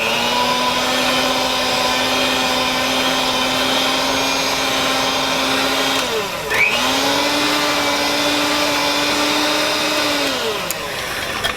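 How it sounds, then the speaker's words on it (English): A loud electric mixer whirs steadily through no-bake eggnog tart filling, its motor pitch dipping and recovering midway as it works the mixture, close and continuous with no talk. "I'm just going to give it one little more mix."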